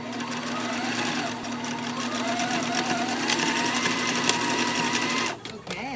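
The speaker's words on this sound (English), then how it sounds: "We're gonna sew all the way from the top down to the side, all the way back up." A sewing machine stitches a circle bear bag with a close, steady whirring drone that runs without a break for several seconds, then cuts off near the end into a few soft handling knocks.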